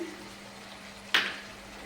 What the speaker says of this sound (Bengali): তেল ছেড়ে দিয়েছে, মশলা প্রায় হয়ে এসছে। সামান্য একটু জল দিচ্ছি